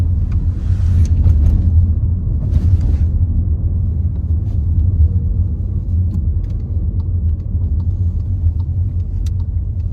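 A diesel Volkswagen Polo R-Line drives along, its engine and road noise forming a steady, loud low rumble from inside the cabin, with a few faint clicks and rattles above it.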